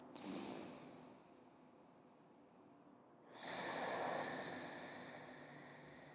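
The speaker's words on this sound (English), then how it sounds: "Finish up this last Ujjayi breath." A slow, audible Ujjayi breath during a yoga power flow: a soft hissing inhale, then a fuller rushing exhale, close and quiet with no talking.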